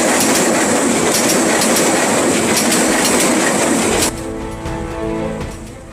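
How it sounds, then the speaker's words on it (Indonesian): The Malabar passenger train rushes past the Laswi level crossing in Bandung, a loud, continuous roar of wheels and rail clatter with rhythmic clicks. Near the end the roar drops suddenly into a lower rumble as the last cars pass. "merekam kereta api Malabar melaju kencang dari arah timur menuju arah stasiun Bandung"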